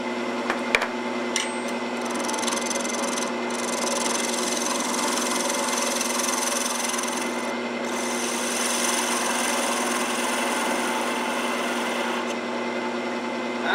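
Sharp woodturning tool cutting wood on a lathe with a clean bevel-riding cut, a steady rasping, scraping hiss over the lathe's motor hum, continuous for the whole stretch at close range with a few brief pauses.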